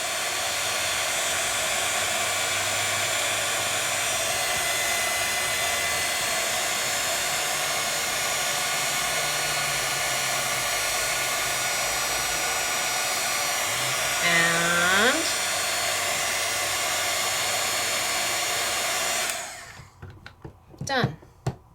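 A heat tool blows a steady high-pitched whir while heating shrink plastic for nearly twenty seconds, then cuts off, leaving scattered faint handling clicks.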